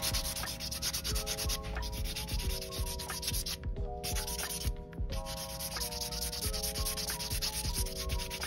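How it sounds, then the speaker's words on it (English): A nail buffer scrubs the shine off a full cover nail tip in quick repeated strokes, a close dry rubbing rhythm that pauses briefly twice, with no voice. "now I'm buffing the shine away off the full cover nail tip"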